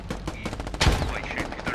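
Gunfire in the Squad military shooter during a city fight: a quick burst of shots with one louder, sharper report near the middle, all packed into under two seconds.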